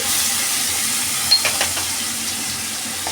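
Chilli paste goes into a hot pan of frying spices for a vegetarian navratan curry, giving a steady moderate sizzle with a few light clinks of a utensil against the pan.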